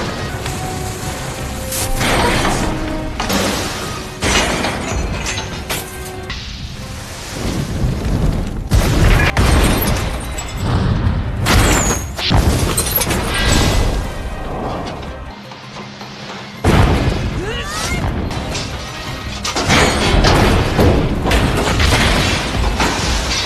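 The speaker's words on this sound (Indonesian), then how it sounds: "Dan akhirnya ledakan besar pun terjadi." A big explosion destroys a robot in a film, heard as a long barrage of heavy booms, crashes and rumbling mechanical debris, loud and close with brief lulls between blasts.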